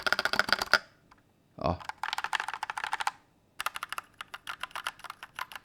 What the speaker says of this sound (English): this time the keyboard is just so quiet